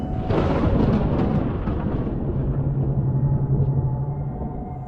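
A long, deep roll of thunder rumbles and slowly fades, loud at first and then trailing off, with no voices.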